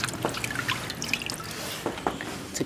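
Pig liver is rinsed under running water in a kitchen sink, giving a soft steady trickle with scattered drips and splashes, close and moderately quiet, with no speech.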